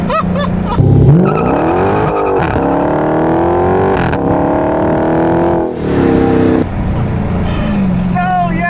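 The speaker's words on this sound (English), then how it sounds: "Lots of wheel spin off the line there in first gear." A 2016 Dodge Challenger R/T Scat Pack with a Hemi V8 launches hard in first gear on a back road, its engine roaring up loudly as the rear wheels spin and squeal, then easing off and surging again.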